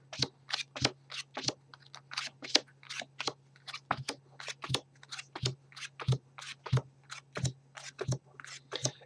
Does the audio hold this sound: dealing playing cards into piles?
yes